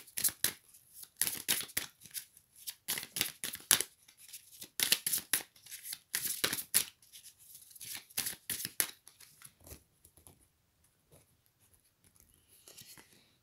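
Tarot cards being shuffled and drawn, with rapid bursts of riffling and flicking in quick clusters, close and fairly loud, easing into quieter handling toward the end.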